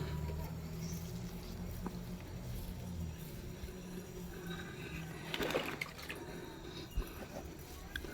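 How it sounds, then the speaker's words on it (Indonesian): Water poured onto dry potting media of an aglaonema ruby chiangmay plant during repotting, a soft close trickle and dribble with a brief louder splash midway. "Semua yang kering saya siram."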